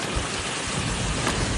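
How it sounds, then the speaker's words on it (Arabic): Heavy rain pours down during a storm with strong winds and flooding in Saudi Arabia, a loud, unbroken hiss of downpour striking surfaces with no voices over it. "والله جاتنا كمية أمطار غير عادية، وفي حياتي ما شفت هذه الكمية حقيقة."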